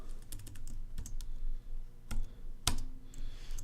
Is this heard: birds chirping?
no